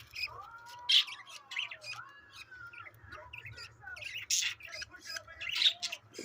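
Sixteen-day-old budgies squawk and chirp in a restless, overlapping flurry, with sharp high calls close by and a low hum underneath.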